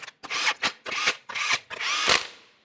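Impact gun running lug nuts down on a Mazda 3 wheel, several short close bursts of high-pitched whirring and rattling separated by brief pauses, the last burst longest.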